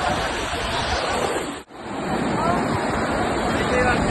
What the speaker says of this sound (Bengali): সমুদ্রে বড় বড় ঢেউ এখানে আসছে